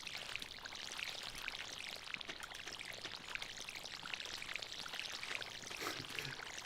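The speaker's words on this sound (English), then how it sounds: "There's tons of watering noises." Watering can pouring over crops in the farming game Stardew Valley, a steady hissing splash of water that runs on evenly and fills the whole stretch without a break.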